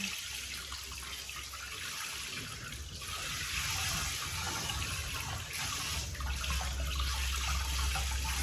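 Tap water runs steadily over fish being washed for a home-style Lao tom yum, a continuous splashing stream with low rumble, close and fairly loud throughout.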